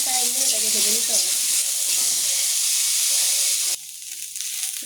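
Bottle gourd (lau) frying in a pan with cardamom and cinnamon, a steady close sizzle and hiss that runs evenly for several seconds, then drops to a quieter sizzle near the end.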